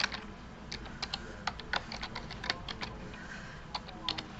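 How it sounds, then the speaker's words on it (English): Keys on a graphing calculator are tapped in a quick, uneven run of crisp plastic clicks, close and fairly clear over a faint hiss, while someone enters an algebra factoring problem. "if you type in the original problem"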